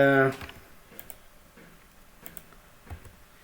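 Scattered keystrokes on a computer keyboard while writing a C program, a few light, irregular clicks after a brief opening burst of voice.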